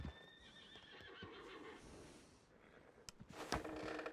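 Horse whinnying and snorting in a Western-style video game, followed by a burst of clip-clopping hooves, fairly close and clear with no voices over it.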